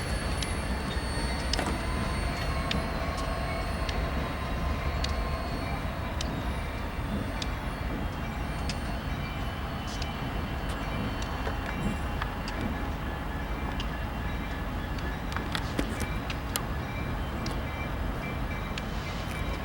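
Union Pacific work train 4872 rolls westbound into Roseville Yard in California, a steady, continuous rumble of wheels and cars heard nearby with no pauses, thin metallic squeals riding over the low roar throughout.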